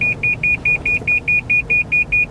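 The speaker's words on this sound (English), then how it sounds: "Why did your car beep? It sensed the other car was coming up quickly." A car's collision warning beeps in a fast, steady series of about eleven identical loud, high tones as it senses another car approaching quickly, each beep separated by brief gaps, with no talk over it.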